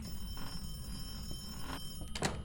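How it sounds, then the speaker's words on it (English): Telephone ringing inside a ghost-hunting video game, heard as a faint trilling bell tone against a steady background hum, with a short, sharper burst of ringing near the end. "There's a phone ringing."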